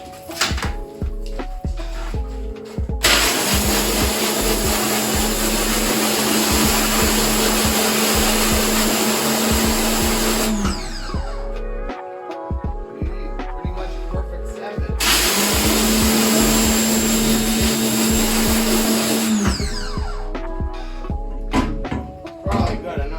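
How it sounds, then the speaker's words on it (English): Pressure washer spraying a screen printing screen in two long, loud, steady hissing bursts, the second after a brief pause, with clattering handling noises around them. "then we're gonna blast it with the pressure washer"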